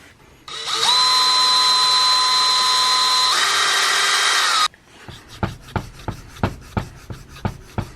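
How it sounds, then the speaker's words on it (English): A power drill boring into black walnut wood for a knife handle, whining loudly for about four seconds before stopping abruptly, then a series of sharp tapping and knocking sounds on the workpiece. "we're going to get this drilled out so it fits on the knife"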